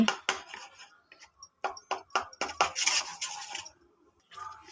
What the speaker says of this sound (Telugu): బాగా కలుపుకోవాలి దగ్గరే ఉండి చాలా జాగ్రత్తగా కలుపుకోండి